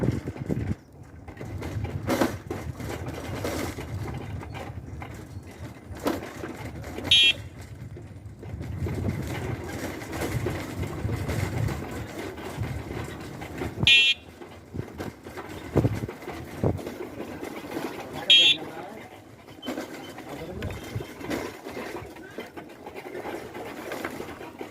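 A Green Udaan electric scooter rolls over interlock brick paving, giving a continuous low rattle and clatter with scattered knocks and occasional sharp squeaks, all close and fairly loud over steady road and wind noise.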